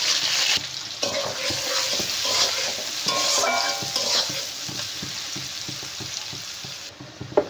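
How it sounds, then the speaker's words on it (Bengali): Sliced onions fry in hot oil for biryani, giving a continuous bright sizzle with occasional stirring scrapes, close and steady, with no talking. "এবার সেই তেলে আমি এই পেঁয়াজগুলো দিয়ে দেবো"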